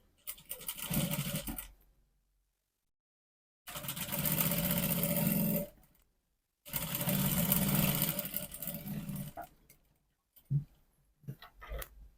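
Sewing machine stitching a trouser pocket to the fabric with a half-inch seam, running in three steady mechanical bursts of a second or more each, separated by short silent pauses, then a few brief clicks at the end.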